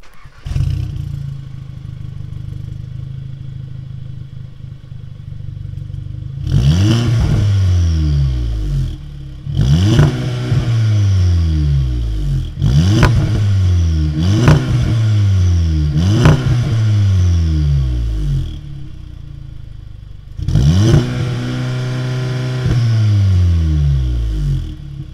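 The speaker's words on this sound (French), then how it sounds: "je vais juste démarrer la voiture pour que vous puissiez au moins l'entendre" A Volkswagen Golf GTI Performance with its muffler removed idles quietly, then gets several sharp revs in quick succession, each rising and falling, followed by a pause and one more rev, heard close with no talking.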